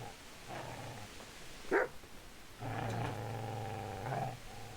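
A dog growls and barks in the medieval role-playing game Kingdom Come: Deliverance. A sharp bark stands out near the middle, and sustained low growling snarls come close and loud on either side.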